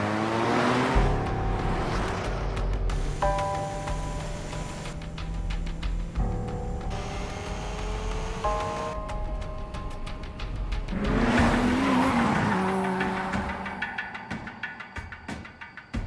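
Race cars in an Initial D street race launching off the line, engines revving with rising and shifting pitch and a skidding squeal near the end, loud and sustained without voices.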